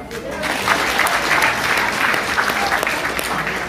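A seminar audience claps in a steady, loud roar of applause that runs the whole time, with a faint murmur of voices mixed in.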